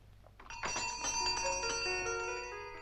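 A doorbell rings in an apartment building entrance, a single bright chime that strikes sharply and rings on with long fading tones, with no voices over it.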